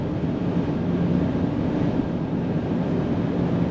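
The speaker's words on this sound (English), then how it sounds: "going down the highway, all you hear is just a little bit of wind noise" Steady broadband wind rush heard from inside a 2025 Chevrolet Silverado EV RST pickup cruising on the highway, a constant, even whoosh with no speech.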